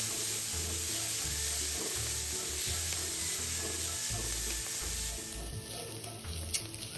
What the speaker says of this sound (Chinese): 将所有食材一起拌炒至香味溢出